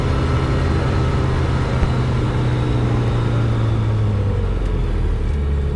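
A Eurofox light aircraft engine held on the brakes during a run-up at 4,000 rpm for a magneto check, a loud, steady propeller drone with a slight shift in pitch partway through.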